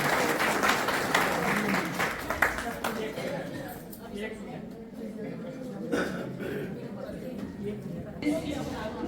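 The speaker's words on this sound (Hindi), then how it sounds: "जोरदार ताली से मैं उनको आमंत्रित करता हूं" Audience applause rises at a senior trainers' conference as a woman is welcomed onto the stage, dense clapping strongest at the start and then thinning under ongoing talk and room noise.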